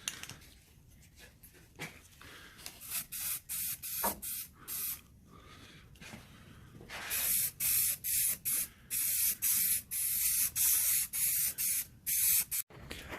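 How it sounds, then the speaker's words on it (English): Aerosol primer sprayed in repeated bursts onto a sun-faded 20-year-old truck grill, loud hissing blasts of a few seconds each, growing longer and more regular toward the end, with no talking. "We're going to primer the whole grill first"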